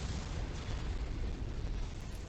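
Deep, rumbling explosion as a mech is destroyed in MechWarrior 5: Mercenaries, a sustained low roar of debris and blast noise, fairly quiet and heard alone.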